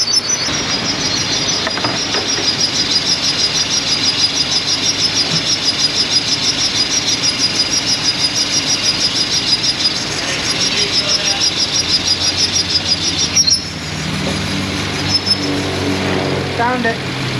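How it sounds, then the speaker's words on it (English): A running car engine with its covers off gives a steady, rhythmic high-pitched squeak from under the hood, pulsing evenly over the idle drone before the tone shifts near the end. "I can hear a squeak under the hood"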